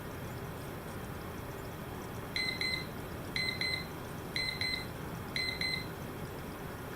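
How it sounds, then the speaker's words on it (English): A digital Time Timer chime plays through computer speakers, four short bursts of paired bright electronic tones spaced about a second apart over a faint background hiss, with nobody talking. "the timer goes off and has a chime to it."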